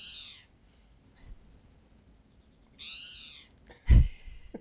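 Spotted towhee call from a played recording: two harsh, buzzy, slurred calls separated by quiet, with a sharp thump near the end and no voices.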